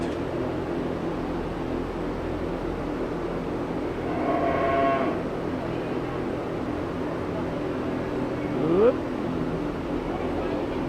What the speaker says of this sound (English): this is dairy cows, dairy cattle